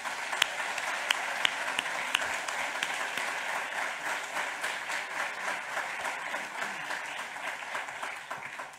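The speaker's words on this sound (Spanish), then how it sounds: "Un aplauso a todos vosotros." Audience applause at a Madrid forum on democracy in Peru, a full and sustained round of clapping with a few sharp individual claps popping out early before it settles into an even roar.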